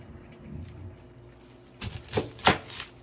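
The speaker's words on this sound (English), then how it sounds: "I'll go ahead and cut my scallion." A knife chops scallion on a cutting board for Jamaican stew peas, several quick close taps in an irregular burst after a few soft knocks, with no talking.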